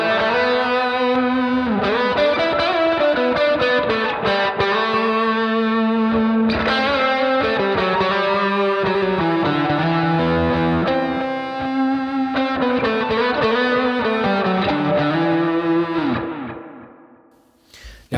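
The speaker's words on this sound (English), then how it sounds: "scene four will turn on the comp, the overdrive, the reverb," Electric guitar played through a HeadRush pedalboard with compressor, overdrive, reverb and delay engaged: loud, sustained distorted chords and melodic lines with thick echo tails, continuous for the whole stretch before fading out at the end.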